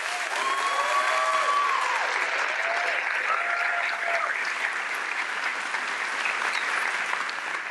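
An audience at a teacher-of-the-year awards ceremony claps for honored educators, dense steady applause filling the room throughout at an even level.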